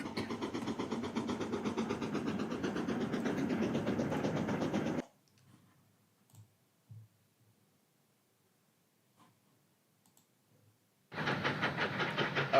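A South Eastern and Chatham Railway O1 steam locomotive, likely a model with a sound decoder, runs with a steady rhythmic chuffing and hum for about five seconds, falls almost silent, then resumes loudly near the end.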